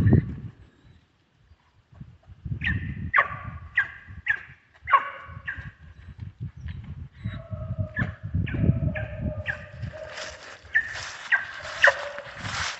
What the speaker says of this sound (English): Barking on it.